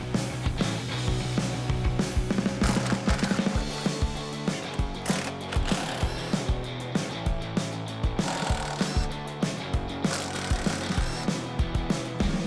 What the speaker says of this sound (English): We're gonna start this install off by removing these 2 13mm bolts on each side of the strut